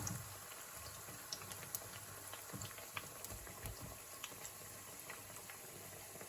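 Green plantain slices fry in hot oil for tostones, a steady crackling sizzle with scattered sharp pops running throughout at close range, no voices.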